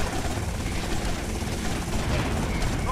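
A helicopter in GTA Vice City thrums continuously amid game noise and gunfire-like clatter, a dense rotor drone that holds steady and fairly loud for a few seconds.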